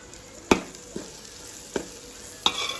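Dal being tempered in oil in a pan: a low, quiet sizzle marked by four distinct spoon-on-pan clanks spaced irregularly through the moment, with no speech.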